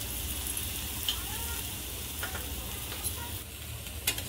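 Thalipeeth, a spiced Maharashtrian flatbread, frying in oil on a pan over low heat, with a steady soft sizzle and a few faint clicks throughout.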